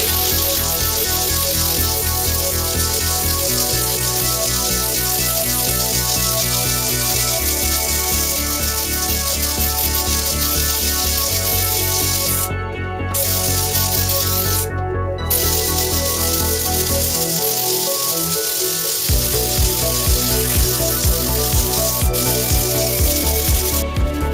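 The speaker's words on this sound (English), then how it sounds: "the steamer is ready to be used, and I've attached a scrubber nozzle onto it" A steam cleaner fitted with a scrubber nozzle works grease off a rough wall after a cooker hood's removal, giving a steady, loud hissing spray that runs continuously and closely, with two brief pauses.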